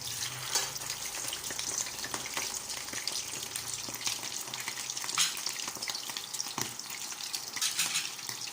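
Shellfish fry in a pan of hot oil, a continuous close crackling sizzle with scattered spoon clinks and scrapes as the pieces are flipped over, no talk.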